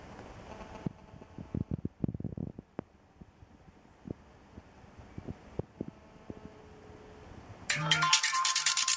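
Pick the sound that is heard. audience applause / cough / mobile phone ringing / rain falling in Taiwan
mobile phone ringing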